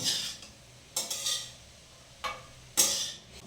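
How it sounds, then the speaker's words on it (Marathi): Carrot halwa stirred and sautéed in ghee, a spoon scraping the pan in a few short separate bursts with quiet gaps between, close by and with no voices. "सो हलवा जो आहे तो आपण व्यवस्थित तुपामध्ये परतून घेऊया एकदा"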